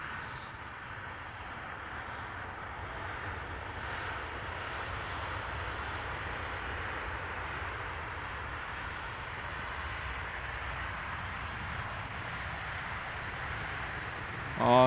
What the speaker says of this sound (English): Transavia 737-800 arriving from Nice,